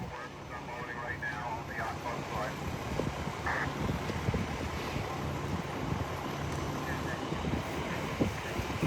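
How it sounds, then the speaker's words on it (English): Strong, steady wind at about 30 miles an hour gusts by a lake shore near a yacht club during a woods fire, a constant roar with buffeting under distant talk. "We got a really good steady wind, probably about close to 30 miles an hour."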